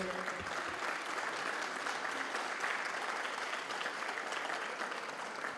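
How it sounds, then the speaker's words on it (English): Steady, dense applause from a crowd at a business breakfast, sustained clapping at even loudness throughout with no pauses, filling the room. "we give her a big, big, big round of applause"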